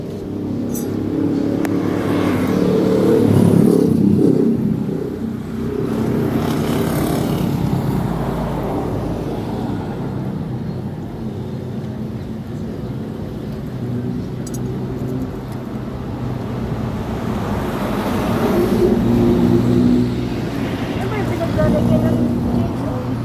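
An overheated, locked-up motorcycle engine idles and revs in rising and falling surges while people talk close by over it.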